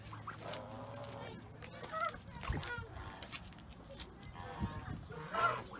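Ducklings and poultry by a coop pond in Kayseri give scattered peeps, clucks and honking calls, with rustling and occasional soft voices in the background.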